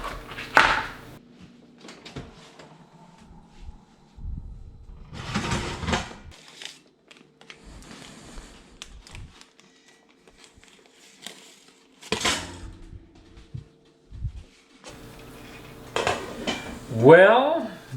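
A metal pot and lid clank and scrape loudly while bread goes into the oven, with bursts of clattering cookware, rattling and a squeaky lid handling near the end, no speech.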